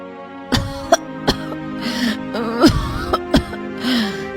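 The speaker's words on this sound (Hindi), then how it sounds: "ये कैसी खांसी है?" Someone coughs repeatedly, several short, harsh coughs and a strained groan, heard over steady background music.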